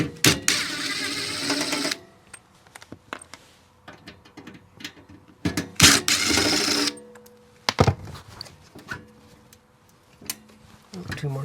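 Screws being removed from a panel cover on an RV with melted neutral wires, heard as bursts of whirring driver noise and scattered metallic clicks and clinks, close and fairly loud, separated by quieter handling sounds.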